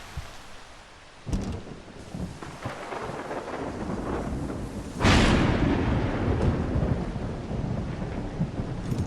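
Thunderstorm in a video game: rain hisses steadily as thunder crashes in, a sharp crack followed by a loud rolling boom that lingers over the downpour.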